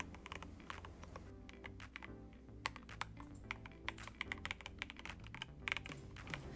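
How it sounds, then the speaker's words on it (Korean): Keys are typed on a newly assembled GMK67 mechanical keyboard, a close, quick, irregular run of crisp clacks that continues steadily over a faint hum. "키보드 입력이 정상적으로 되는지 먼저 테스트를 해봤습니다"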